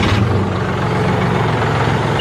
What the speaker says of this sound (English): I'm also gonna crank the L8000 up out there too and let it run